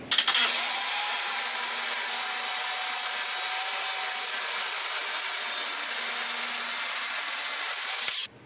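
A saw cuts a strip off an oak board for a rustic bench apron: one continuous loud, even rasp runs for about eight seconds without a break and then stops abruptly.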